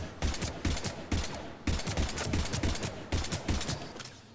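Gunshots from the Mass Effect 3 video game ring out in loud, evenly spaced bursts, each a cluster of sharp rapid cracks repeating about every half second, close and alone with no talk.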